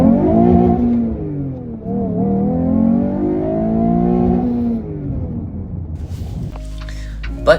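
A Toyota 2GR-FE V6 in an MR2 fitted with a 3D-printed intake revs repeatedly, its rising and falling engine tone swelling in several loud pulls before dropping off, with a brief clatter of other noise at the end.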